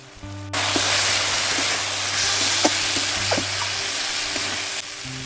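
Spices and pastes frying hard in oil for a pangas fish curry (chilli, cumin and coriander powder with garlic, onion and ginger paste), making a loud, steady close sizzle that starts abruptly and stays continuous, with a few light clinks.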